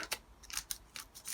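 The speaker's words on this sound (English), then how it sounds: "Just getting at my scissors, and all you do is just snip the end off" Scissors snip the end off a fresh packet of fuel tablets for a vintage Mamod SP2 steam engine, several quick close crisp cuts in a row.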